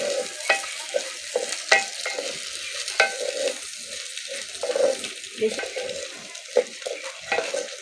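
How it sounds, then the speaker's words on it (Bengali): Rice with a pinch of turmeric is stirred and fried in a pan for basanti pulao, producing repeated scraping strokes over a soft sizzle, with a brief spoken word in the middle. "একটু নেড়ে চেড়ে ভেজে নেব।"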